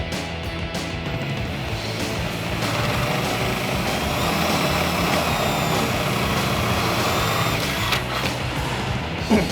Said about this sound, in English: Now we're going to skip this hole and drill this one out.